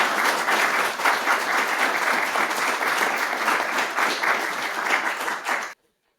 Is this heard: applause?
yes